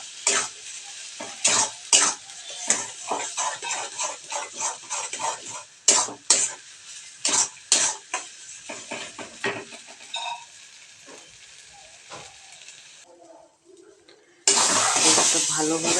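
Taro paste with hilsa fish being stirred in a pan, with short scraping strokes and soft sizzling repeating in uneven bursts, close by, ending in a louder hiss.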